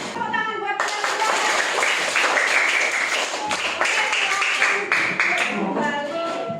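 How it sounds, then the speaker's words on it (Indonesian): Classroom group of children clapping for their classmates after a magnet lesson, a burst of brisk, loud applause that starts abruptly and carries on steadily, with children's voices mixed in near the end. "Tepuk tangan buat teman-teman"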